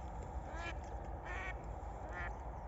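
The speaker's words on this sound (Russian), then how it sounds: "Уточка работает." A duck quacks three times in short bursts, spaced apart, over a steady background hum outdoors on a foggy morning near reeds during a duck hunt.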